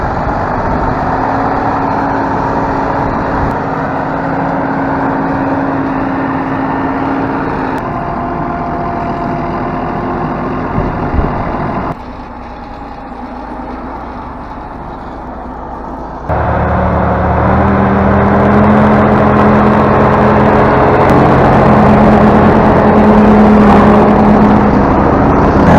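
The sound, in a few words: Kirovets 701 tractor engine roaring stuck in deep mud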